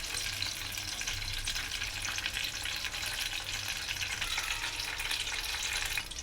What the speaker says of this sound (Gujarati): તેને આપણે 2 મિનિટ સુધી હાઈ ફ્લેમ ઉપર ગરમ કરીશું, ફ્રાય કરી દઈશું